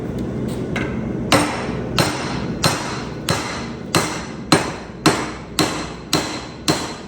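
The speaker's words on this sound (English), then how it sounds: "Take my hammer." A hammer forges steel for a pair of T-tongs held in a vise: a few light taps, then about ten loud, evenly spaced ringing blows close up with no talking.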